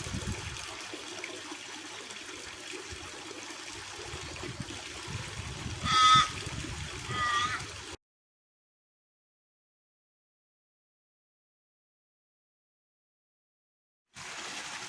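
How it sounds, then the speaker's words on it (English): Water draining from a garden pond makes a faint, steady trickling wash with a couple of brief bird-like calls. The sound then drops to silence for several seconds and comes back at the end. "Draining of the pond has begun"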